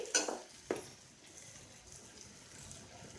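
A spoon stirring coriander powder into capsicum curry in a pan, with two sharp metallic scrapes at the start, then a faint, quiet sizzle and soft mixing sounds.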